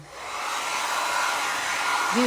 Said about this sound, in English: I want to hit this with a dryer so that we don't have to wait 10 minutes